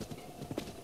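Horse hooves clip-clop in The Legend of Zelda video game, a brief, faint run of soft rhythmic hoofbeats at a quick pace.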